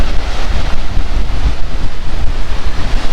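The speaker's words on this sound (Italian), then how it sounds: "Adesso si è alzato un vento." Wind gusting across open water beside a boat, a steady loud rumble of wind buffeting the microphone with waves and surf washing underneath throughout, no voices.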